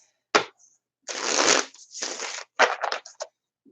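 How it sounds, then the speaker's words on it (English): A deck of tarot cards is shuffled in several quick riffling bursts separated by short pauses, close and crisp, with no talking. "Oh, these cards are lovely to shuffle too."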